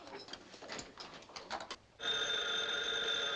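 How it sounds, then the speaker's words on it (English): An old 1940s-style telephone bell breaks in halfway through, ringing loudly and continuously after a stretch of faint crackling room noise. "That man who calls himself Mr. Jones is on the phone again"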